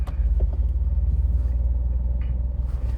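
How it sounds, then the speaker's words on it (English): A Jeep Wrangler fitted with a Rubicon transfer case creeps along in 4 low without throttle, giving a steady, loud low engine and drivetrain rumble that holds constant throughout, with no talk. "you can noticeably see how slower the Jeep is moving in 4 low"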